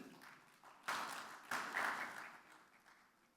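An audience applauds at an agribusiness summit keynote, a faint, somewhat distant crowd clapping that swells twice and then tapers off.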